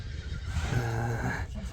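A young Orlov breed horse, a yearling colt, gives a loud, close neigh that rises and then trails off, with a voice audible over it.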